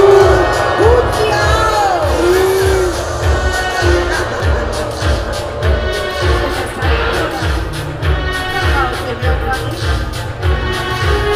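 Audience at a knight tournament show at Erlebnispark Schloss Thurn, a large crowd roaring and booing together in a loud, sustained wave, with rhythmic stomping or clapping pulses and scattered whoops throughout.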